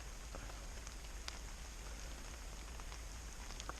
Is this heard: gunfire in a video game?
no